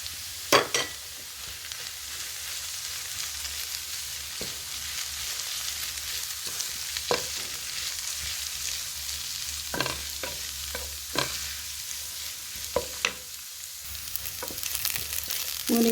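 Potato, carrot and moringa leaves stir-fried in a pan, a soft continuous sizzle with scattered scraping and clacking stirs of the utensil against the pan, close and quiet, no talking.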